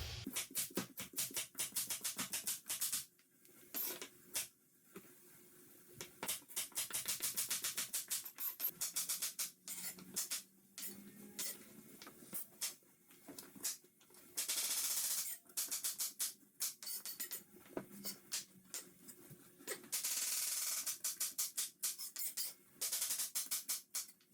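Carrots sliced on a cutting board with a crinkle-cut knife, for raw-pack pressure canning: a long run of quick, crisp chopping thuds and rasping cuts in irregular bursts, close and clear, with short pauses between strokes and no talk.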